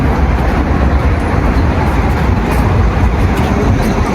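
Dense, steady road traffic noise rumbles without pause, a loud constant wash of passing vehicles heard close up with no voices.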